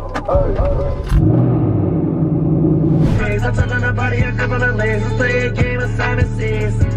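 A low, steady rumble fills a car's interior while driving, with faint rattles and bumps, and people talking over it.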